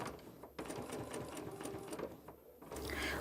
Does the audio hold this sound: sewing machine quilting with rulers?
yes